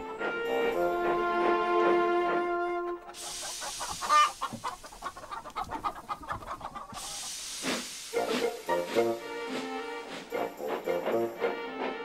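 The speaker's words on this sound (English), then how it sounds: "First, Thomas collected the chickens." Chickens clucking and squawking amid steam-engine hissing and whistle-like tones, with a locomotive puffing rhythm and scattered background sounds, no speech.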